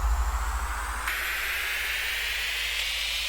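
Riser effect in a modern pop track made in FL Studio: a steady hissing white-noise swell that brightens and climbs gradually, layered over a low sustained tone, fairly quiet and without voices.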